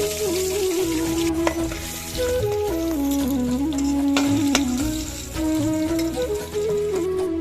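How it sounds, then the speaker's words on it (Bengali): Boiled potatoes fry with salt in hot oil for a village-style biryani, a continuous close sizzle with spatula scrapes and stirring, while music plays over it. "সেদ্ধ করা আলুগুলো নুন দিয়ে ভেজে নিচ্ছি।"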